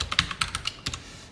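A computer keyboard is being typed on at a quick, uneven pace while entering an SQL query, with about a dozen close, crisp keystrokes and no talk.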